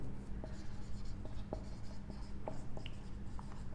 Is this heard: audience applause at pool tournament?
no